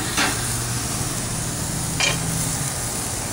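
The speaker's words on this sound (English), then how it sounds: "we're going to very carefully open the grill. Place our burgers on it." Burgers sizzling on a new grill, a steady hiss broken by two short scraping clanks of a utensil against the grates, with no talk.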